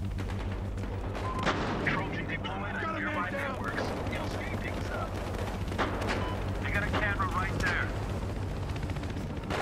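Sniper and other gunfire in an online shooter game on the Hollywood Heights map: a busy stretch of sharp shots and distant fire under steady game noise, with a voice talking over it.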